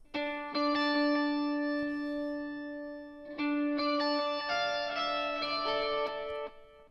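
Clean electric guitar chords ring and sustain, each strum followed by faint repeating echoes that trail into the next change.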